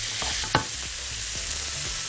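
Carrots and mixed vegetables stir-fried in a pan for chicken with vegetables, a steady close sizzle with a sharp clatter of a utensil near the middle, no voices.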